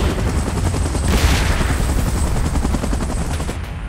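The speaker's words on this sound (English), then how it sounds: "Chopper in position." Loud helicopter rotor noise in PUBG Mobile runs throughout, mixed with dense bursts of rapid gunfire and rattling machine-gun fire in a continuous battle din.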